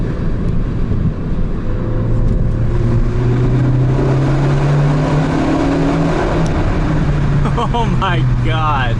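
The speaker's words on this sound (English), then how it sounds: "It's crazy that that's the sound this car makes." A Ford Focus ST's turbocharged four-cylinder pulls hard under acceleration, heard from inside the car as a loud, rising engine drone with rumbling harmonics that climbs steadily in pitch, with voices near the end.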